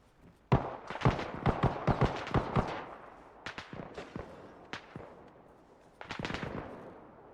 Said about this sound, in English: He really just took some shots at me from that window and then gave up, huh?